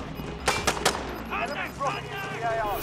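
Video game gunfire: several sharp shots in quick succession early on, then bursts of automatic fire, loud and close, with a player voice talking over it.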